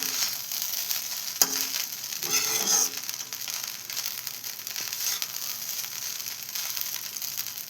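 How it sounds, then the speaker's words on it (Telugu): Spoon stirring and mixing chitrannam, lemon rice with salt and lemon juice, in a pan: faint scraping and soft clinks over a steady background hiss, with a couple of brief louder knocks early on. "మళ్ళీ అంతా కలబెట్టుకున్నాము"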